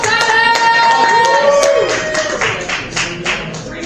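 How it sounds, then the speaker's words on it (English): A comedy club crowd claps for the first comic of the night with sharp, fairly close claps; a sustained tone and a brief rising whistle-like sound sit under the applause, which loosens and thins near the end. "Round of applause."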